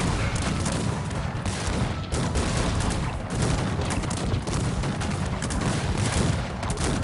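Massed musket volleys from a large force of 36 grenadiers in the real-time strategy battle game Cossacks 3, a dense, continuous crackle of overlapping gunfire and booms held at steady loudness throughout.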